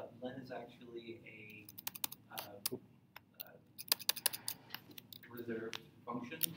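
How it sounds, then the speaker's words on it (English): Fast, irregular key clicks come from typing on a tiny computer keyboard while coding, close and fairly quiet, with occasional louder taps. "I'm not used to this tiny keyboard"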